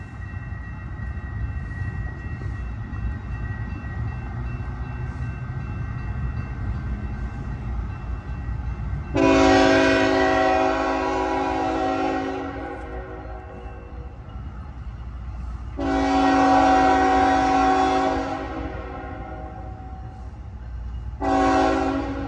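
A northbound CSX empty unit coal train passes at Hamilton, Ohio, with a steady rumble of railcars. Three loud horn blasts sound close by, the third cut short at the end.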